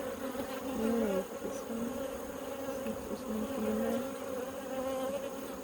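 Honey bees buzzing close by during a hive inspection, a steady drone with wavering pitch as individual bees fly near, moderately quiet and without talk.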